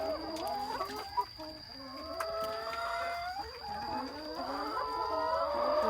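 Several chickens cluck and chatter nearby in overlapping, wavering calls, with a steady high whine running underneath throughout.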